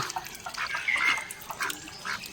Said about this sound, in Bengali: খাবার দিয়ে দিচ্ছি, হাঁসগুলো খুব সুন্দরভাবে খাচ্ছে।